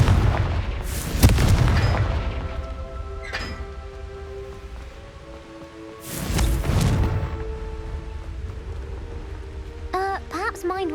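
A Confringo fire spell from Hogwarts Legacy bursts into two heavy booming explosions a few seconds apart, each followed by a crackling decay over a low ambient hum, with a brief whooshing magical effect at the end.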